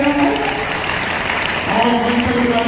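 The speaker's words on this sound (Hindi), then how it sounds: "जोरदार ताली बजाना" Loud, sustained applause rises from an audience at a political gathering in Harda welcoming a newly appointed union minister, a steady wash of clapping lasting a few seconds.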